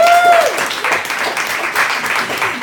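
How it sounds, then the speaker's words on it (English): Comedy club audience applause, a moderate burst of many hands clapping with a few voices mixed in, fairly loud and close, tapering slightly over a couple of seconds. "Come on, another round of applause."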